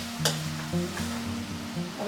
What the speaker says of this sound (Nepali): त्यसपछि यसलाई हामीले चलाउँ, सबै मिक्स गरिदिउँ मसलाहरू।